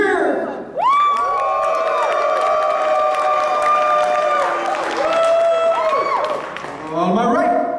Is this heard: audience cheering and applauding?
yes